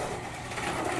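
A Tyco 440x2 slot car runs at 20 volts, its small electric motor giving a steady, close, high-pitched whirring buzz with no pauses.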